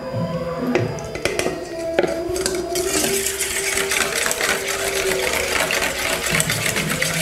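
An electric mixer beats banana batter with a steady, buzzing whir, while a few clattering taps sound early on against the bowl.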